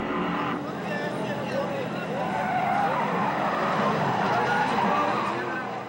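Pontiac GTO and El Camino drift cars battling in tandem at a Formula Drift event, engines roaring and tires squealing in a sustained, loud wail, with a commentator talking over it.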